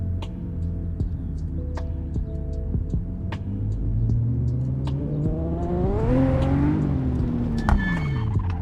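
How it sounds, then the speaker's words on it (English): A video-game car engine drones and revs on a mountain pass course, its pitch sliding up and down, with sharp crackling pops from the exhaust as it brakes and slows. "Ooh, do you hear that braking sound?"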